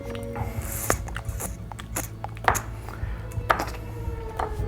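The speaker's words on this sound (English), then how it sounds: "I'm gonna mix this up together well" Canned-pumpkin cheesecake batter mixed by hand in a small bowl, irregular clacks and scrapes of utensil against the bowl with sticky squelches, a continuous busy clatter at close range.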